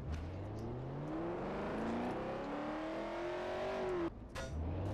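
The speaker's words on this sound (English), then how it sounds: "I've been just driving around the city like a champ" A car in the Garry's Mod DarkRP video game accelerates through a city, its engine whine climbing in pitch through repeated gear shifts. The sound is loud and steady, with a brief dip near the end before it resumes.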